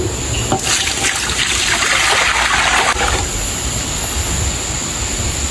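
Clean water for ruqyah bathing pours in a loud rushing stream for about two and a half seconds over a steady background rumble, then stops.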